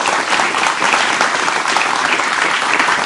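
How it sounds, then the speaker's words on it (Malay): An audience applauds three panelists at a campus forum on sport, a steady, full wash of many hands clapping evenly and loudly for a few seconds. "Kita beri tepukan kepada ketiga-tiga ahli panel kita"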